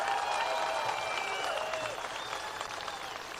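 Crowd at a Trump political rally in Missoula, Montana applauds from a distance, with steady clapping and a few high whistles rising over it before the sound eases slightly.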